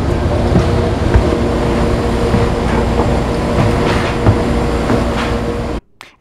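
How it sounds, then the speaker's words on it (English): The southbound Starlight passenger train pulling into a station, heard as a loud, steady rolling rumble with faint clanks and rattles throughout, cutting off abruptly just before the end. "while we were waiting, the southbound Starlight pulled into the station"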